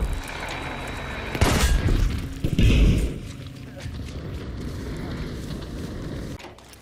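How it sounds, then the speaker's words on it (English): Bomb explosions in Battlefield V: two heavy booming blasts land close together, followed by a lingering low rumble, with battlefield voices talking underneath. "Bomb is coming down!"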